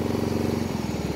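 The engine of a ride-on lawn mower idles in a low, rapid, even throb, heard fairly quietly and alone with no talk over it.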